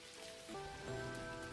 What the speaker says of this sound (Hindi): बारिश हो रहा है दुनिया भर का।